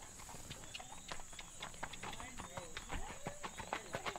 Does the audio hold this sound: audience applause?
no